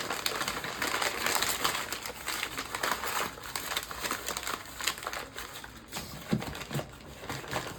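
Packing paper is crumpled and crinkled by hand while a gift basket is assembled, a steady close rustling crackle throughout with a few louder crunches near the end.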